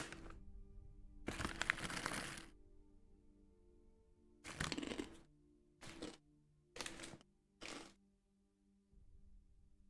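Close, crisp crunching as cheese and jalapeño coated peanuts are chewed, arriving in one long burst followed by several shorter bursts with quiet gaps between them.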